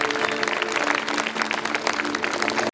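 A church congregation at a live Hindi worship service claps loudly and steadily for a visiting reverend, dense applause running throughout with a faint sustained tone underneath.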